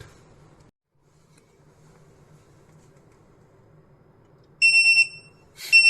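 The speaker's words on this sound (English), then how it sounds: "we can see an empty alarm inside the transmitter unit, which can be muted by a soft touch" A Swarn Jal wireless water tank indicator sounds its empty alarm: after near silence with a faint low hum, loud shrill electronic beeps ring out in a sustained burst, pause briefly, then start again.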